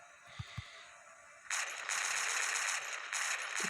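Gunfire in a zombie survival video game: after a quiet stretch with a couple of soft knocks, sustained rapid shots burst in, continuous and fairly loud with one brief gap near the end.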